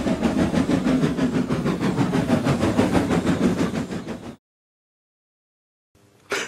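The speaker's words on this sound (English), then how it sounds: "Thomas pushed the breakdown train alongside." A model toy train engine, Thomas, pushes a breakdown train along a track with a steady chuffing, clattering rumble, loud and close, then cuts to silence before a brief new sound.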